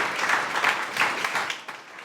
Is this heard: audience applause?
yes